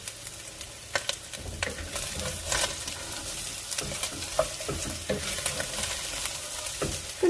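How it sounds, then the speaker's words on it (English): Garlic and potato frying in a pan while being stirred: a steady close sizzle with scattered scraping knocks of a utensil against the pan, no talking. "Give everything a stir."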